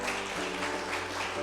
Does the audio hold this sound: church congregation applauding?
yes